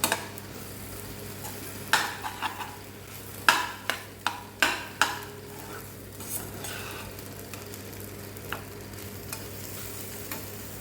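Leftover puttu is stirred with chicken curry in a pan. A spoon scrapes and clacks in a quick run of distinct strokes over a soft, steady sizzle, then the strokes thin out to occasional taps.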